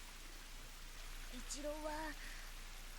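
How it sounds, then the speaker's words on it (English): Steady rain pours down in an anime boxing scene, a constant soft wash of falling water throughout, with a voice speaking briefly over it midway. "だけどこの雨じゃ傘さしても意味ねえか"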